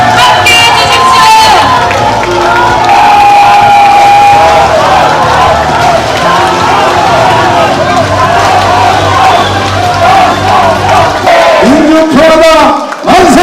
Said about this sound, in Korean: 큰 박수와 함성으로 함께해 주십시오.